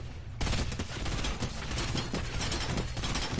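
Rapid, dense gunfire in the video game Fortnite, sustained and loud throughout, with overlapping shots forming a continuous barrage and no speech.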